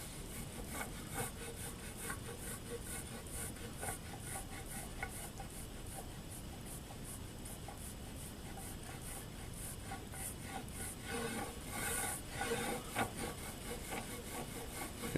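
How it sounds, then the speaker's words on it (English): Hard roller worked back and forth, crisscrossing to spread machinist's bluing flat on a metal surface during Bridgeport milling machine work, a faint close rhythmic rubbing and scraping that continues without pause. "a hard material, this roller, and you got to work it to get the bluing flat"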